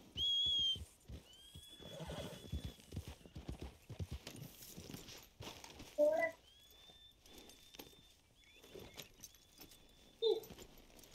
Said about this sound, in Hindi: हाँ इस घोड़े का डंकी नाम है।